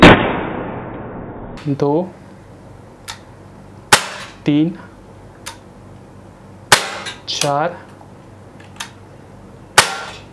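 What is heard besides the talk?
CZ 75 P-07 Duty CO2 blowback pistol firing pellets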